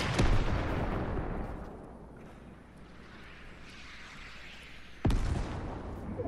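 Rocket launcher blasts in a Fortnite match: a heavy booming explosion opens, then a rumbling tail fades out before a second sharp blast hits near the end, both loud and up close.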